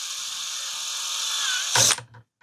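A power drill runs at a steady high whine into a countersunk hole in a 3D printer bed, ending with a louder grinding burst as it bites and stops.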